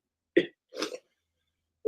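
Two short, sharp coughs from a man, spaced apart with silence between them, close and fairly loud, followed by the start of another burst at the very end.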